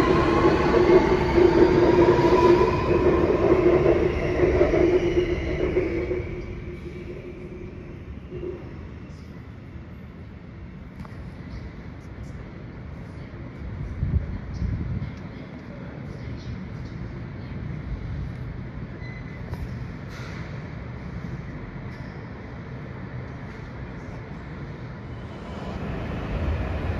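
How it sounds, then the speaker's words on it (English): A Sydney Metro train pulls into Chatswood station, a loud rising whine and rumble easing into a steady low hum as it slows and settles at the platform. "Here we have a Sydney service arriving at Chatswood."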